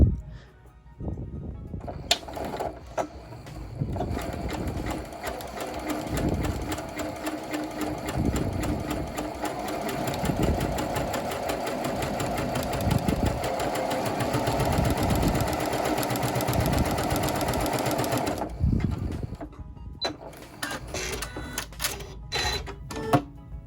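A sewing machine runs a zigzag stitch over the raw edge of a fabric seam, a fast rattling, even chatter that runs for about sixteen seconds before stopping, followed by a few light clicks.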